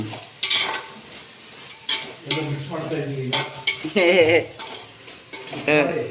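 Oil tempering in a home kitchen with mustard seeds, lentils, peanuts, curry leaves, chillies, onion and tomato, giving a steady close sizzle with repeated scrapes and clinks of a spoon against the pan and brief voices underneath.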